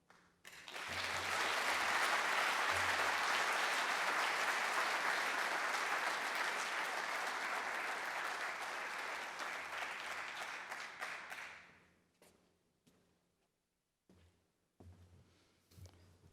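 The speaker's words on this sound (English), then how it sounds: "Please join me in thanking and applauding these amazing city employees." A large audience at a Rocklin State of the City event gives sustained applause to honored city employees, a full, steady roar of clapping for about eleven seconds that fades out, followed by a few scattered claps.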